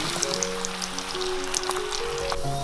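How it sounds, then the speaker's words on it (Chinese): Olives deep-frying in a pot of hot oil, a steady dense sizzle with scattered popping crackles running throughout, close and fairly loud with no voices. "烧热一锅油，油温7成热的时候，把橄榄放进来炸。"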